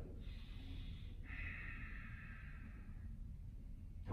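A yoga practitioner breathes in and out through the nose during a morning energy flow, with a soft, steady airy hiss across the clip.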